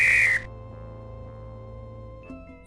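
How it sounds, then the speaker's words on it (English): A whistle blown in the video game Return to Zork, a short, shrill, piercing tone at the start that cuts off abruptly, followed by a quiet synthesized game music bed with no voices. "That whistle sounds familiar"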